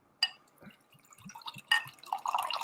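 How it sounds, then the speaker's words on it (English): Homemade fermented drink sweetened with maple syrup, after a second fermentation and chilling, poured into a glass, giving soft splashing drips and a brighter gush toward the end, close by. "You can hear that nice pour."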